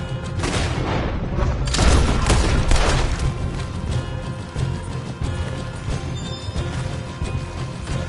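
Gunfire crackles in the Red Dead Redemption 2 video game, a loud burst of overlapping shots early on that thins into scattered reports, with horse hooves and a mechanical rumble underneath.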